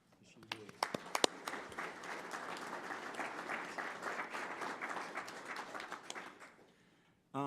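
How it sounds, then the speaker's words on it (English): A crowd breaks into sustained applause, dense and even for several seconds, starting with a few scattered claps and ending abruptly as a voice begins. "So Leanne Franklin, you deserve our applause."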